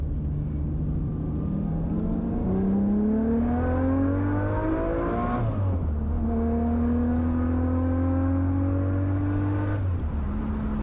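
An Alfa Romeo car with a Busso engine revs and accelerates through several rising gear pulls with a shift drop midway, its loud, steady engine note filling the whole stretch with no talk.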